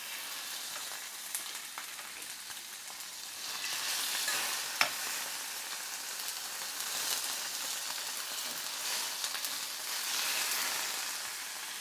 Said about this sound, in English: we're going to put our fish on our preheated pan. Now, you hear the sizzle?